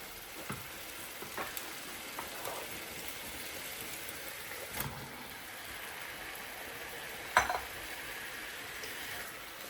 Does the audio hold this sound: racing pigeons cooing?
no